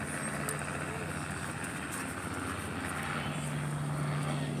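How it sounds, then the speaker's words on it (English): A helicopter drones steadily overhead at a fireworks harbor festival, a continuous rotor and engine hum under crowd murmur and scattered voices, holding level throughout. "Helicopter stayed up."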